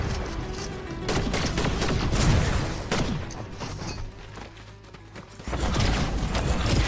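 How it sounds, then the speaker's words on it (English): Gunfire in Fortnite Zero Build: scattered rapid shots and short bursts at middle distance, crackling irregularly over a low background rumble. "Somebody else is shooting now"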